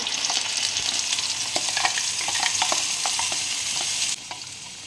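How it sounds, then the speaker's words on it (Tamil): Chutney tempering in hot oil sizzles and crackles loudly with scattered pops and stirring scrapes, then the hiss drops off sharply near the end. "ஆயில் ஹீட் ஆகிடுச்சு. நான் இந்த சட்னியை தாளிச்சிக்கிறேன்."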